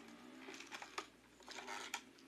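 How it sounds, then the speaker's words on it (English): Small hard objects clatter and click in quick irregular bursts, the rattles of a 1/2-ounce pencil bait fishing lure shaken close up, with a few sharper ticks standing out. "It's actually got a nice set of rattles in the front."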